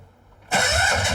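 Engine of the Mouse, an experimental one-seater car running on rapeseed biodiesel, catching after a quiet moment and settling straight into a loud, steady idle.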